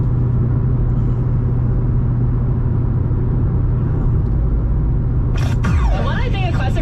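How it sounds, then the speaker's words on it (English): A 2007 Chevrolet Corvette Z51 coupe idles with a steady, deep, smooth engine and exhaust rumble close by, followed near the end by a brief burst of higher-pitched noise. "This is a really smooth running Corvette. Got an excellent exhaust sound."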